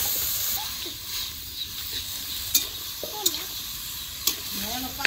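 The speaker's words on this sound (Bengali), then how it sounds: "এরকম করে আমি তেলের সাথে উল্টা পাল্টা করে নাড়া দিব" Pumpkin greens and jackfruit seeds are turned over in sizzling oil in a pan, a steady frying hiss with a few sharp scraping knocks of the spoon.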